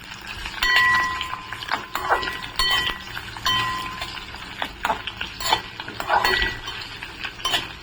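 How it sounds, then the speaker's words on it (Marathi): Sliced onion sautés in oil in a pan while a metal spoon stirs and scrapes, giving repeated clinks and scrapes over a soft background sizzle. "ते पण आपण छान असं तेलामध्ये परतून घेऊया।"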